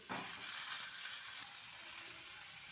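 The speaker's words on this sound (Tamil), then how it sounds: "இப்போ இது ரெண்டும் நல்லா கொல கொலன்னு வதங்கி வரணும்" Onions and tomatoes sautéing in a pan while a fish fry is prepared, a steady close sizzling hiss running unbroken throughout with no talk.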